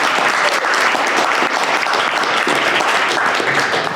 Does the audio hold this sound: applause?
yes